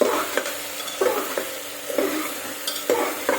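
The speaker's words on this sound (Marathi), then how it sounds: "मी अगोदर थोडंसं दांड्यानं त्याला मिक्स करून घेते" Drumstick pods (moringa) being stirred with a ladle handle in a hot pan, with soft sizzling under repeated scraping strokes, several short bursts in an uneven rhythm, close and fairly quiet.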